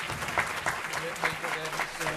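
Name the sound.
applause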